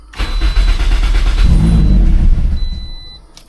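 A turbocharged Toyota Corolla engine cranks and catches, giving a loud close rumble that swells for a couple of seconds and then fades back down.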